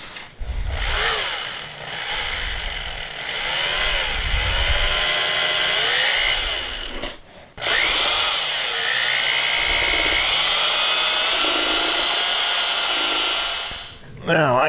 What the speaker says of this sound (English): My big D-handle drill.